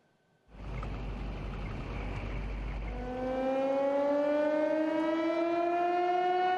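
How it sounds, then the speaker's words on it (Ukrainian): An air raid siren in the frontline city of Kupiansk, Ukraine, starts up over engine rumble and rises into a loud, sustained wail that holds steady. "Сирена повітряної тривоги у Куп'янську майже ніколи не стихає."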